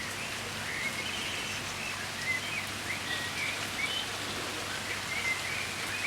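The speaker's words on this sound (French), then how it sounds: "il pleut là" Steady rain falls over a garden, an even hiss of drops across the whole stretch with faint bird calls above it.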